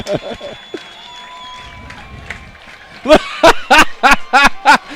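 Football crowd at a high school game on senior night erupting in loud cheers and claps for a senior's touchdown, bursts of shouting rising after a quieter stretch with faint voices.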